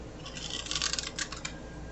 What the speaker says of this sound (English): let me give this a shuffle